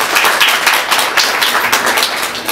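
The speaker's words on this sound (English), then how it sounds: "Please mark this moment with another round of applause." A loud, close round of applause from a symposium audience, many hands clapping in a busy, steady burst with no talk over it.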